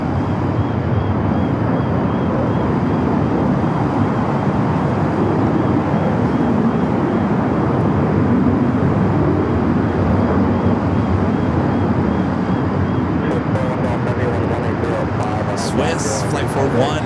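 A Lufthansa Airbus A350 bound for Munich takes off on the south side at LAX at night, a steady broad engine roar held at constant loudness throughout, with a voice talking over it.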